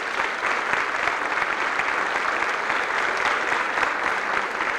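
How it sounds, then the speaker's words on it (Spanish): Sustained applause from a crowd, steady and fairly loud throughout with no voices standing out. "Pido un aplauso a ustedes mismas"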